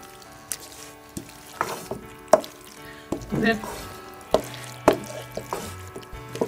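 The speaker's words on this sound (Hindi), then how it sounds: "अच्छे तरीके से मैं सॉस के साथ मैक्रोनीस को मिक्स कर लूँगी।" Macaroni being mixed with sauce in a pan makes scattered spoon clinks and scrapes over soft sizzling, fairly quiet and close, with no talk.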